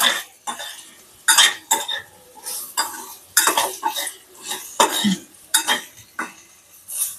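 Raw banana slices fry uncovered in an open pan over high heat, with loud, close metal spatula clanks and scrapes at irregular intervals over a soft background sizzle; no talking.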